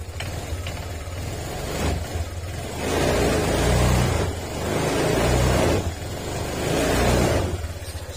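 A freshly overhauled Honda Click 150 scooter engine is revved in three long pulses, each one swelling into a loud, close whine before dropping back to a rough idle between bursts.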